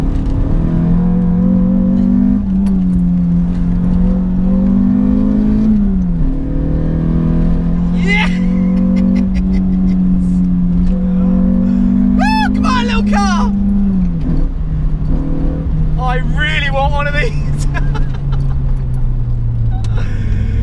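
A 2005 Renault Clio 182 hatchback pulls hard on a race track, its engine droning steadily then rising and falling through revs with a shift dip, loud and close from inside the cabin, with tyre squeal and a voice at moments.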